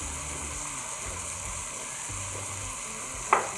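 Garlic frying in a pot as the base of an Alfredo sauce, a steady soft sizzle with constant crackle, near and even, with a brief louder clink or scrape near the end.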